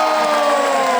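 Crowd noise in the Mecum Kissimmee 2026 car auction hall, a loud, dense, continuous roar of many voices with tonal hum running underneath.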